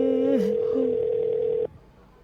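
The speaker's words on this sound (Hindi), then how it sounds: "अभी मैं फ़ोन लगा रहा हूँ ऑनलाइन वकील को ढूंढ के" A telephone being dialed, a loud steady electronic tone with a short pitch-shifting warble early on, cutting off abruptly near the end and leaving quiet room noise.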